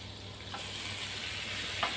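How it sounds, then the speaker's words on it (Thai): Pork stir-fried in a pan gives a steady, even sizzle, broken by two brief scrapes of the utensil. "เราจะผัดให้หมูสุกดีเลยนะคะ"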